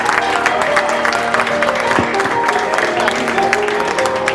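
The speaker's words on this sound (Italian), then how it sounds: "Un applauso, applauso!" Loud audience applause and crowd noise at a Christmas La Corrida talent show in Forio, dense continuous clapping with cheering mixed in, filling the whole stretch at steady volume.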